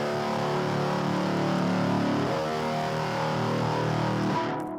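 Heavy, dark electric guitar from a song production, one dense sustained roaring tone that holds steady for several seconds with a shift midway, then cuts off.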